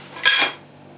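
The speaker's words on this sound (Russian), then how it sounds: "Ложкой от мультиварки, ну, или другой лопаточкой, чтобы она сверху у нас была ровненькой." A single brief scrape of a multicooker spoon across curd casserole batter in the multicooker bowl, a short bright swipe lasting under half a second, close and alone.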